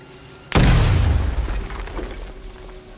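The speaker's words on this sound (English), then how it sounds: "apply the explosive directly to destroy that wall" A single loud explosive blast tears down a wall in Batman: Arkham Knight, a sudden deep boom with a crumbling rumble that slowly fades out over the next few seconds.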